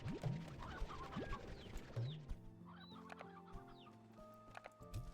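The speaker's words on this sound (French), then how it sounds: "Une poule ancienne, un vieil oiseau dont les jours de ponte sont passés depuis très longtemps." An ancient chicken in the video game Slime Rancher 2 clucks in short repeated bursts, close and clear over a quiet backdrop of soft game tones.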